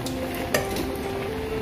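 Oil bubbles and sizzles steadily as anchovy vegetable fritter batter fries, with a utensil clinking against the pan partway through.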